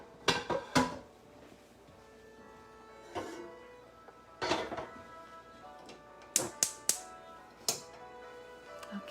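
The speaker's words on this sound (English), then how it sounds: "I'm going to take this frying pan over here." Several sharp metallic clanks and knocks from a frying pan being handled in a home kitchen, scattered irregularly across the stretch, close and moderately loud against a quiet room.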